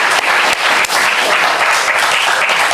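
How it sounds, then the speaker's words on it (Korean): A church congregation applauds after a baptism, sustained dense clapping from many hands filling the room, loud and steady throughout. "이거 박수 또 보내줘야 돼요"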